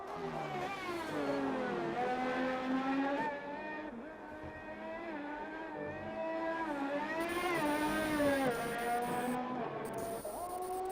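A race car engine in a racing video game, starting a flying lap on a Mexico circuit, a loud continuous whine whose pitch rises through the gears, drops at shifts and climbs again.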